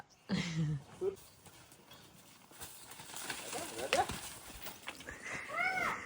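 Hooves of a mare clop unevenly at a moderate distance in a village while people talk over them, with a brief high call near the end.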